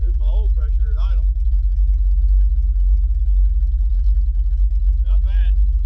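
A 1968 Pontiac ambulance engine idles steadily after a cold start, a loud, even low rumble running throughout while someone speaks briefly over it.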